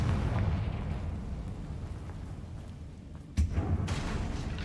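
Confringo fire-blast spell from the video game Hogwarts Legacy, a low rumbling explosion fading over a few seconds, then a sudden sharp thud with a fresh booming burst and rumbling tail.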